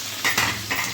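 Chicken and carrots stir-frying in a pan, a loud sizzle swelling with two or three quick stirring strokes of a utensil against the metal.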